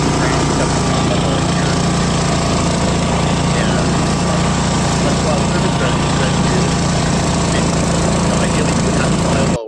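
A mower cuts a cover crop on a San Diego farm plot, a loud, continuous engine drone with a constant rumble and no break, with speech heard over it.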